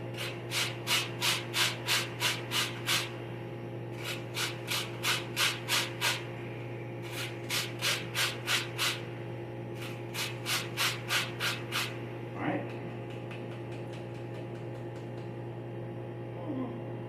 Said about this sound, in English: I'm going to zest a little bit of lemon